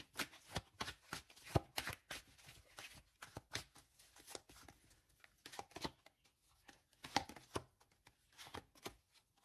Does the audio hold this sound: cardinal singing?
no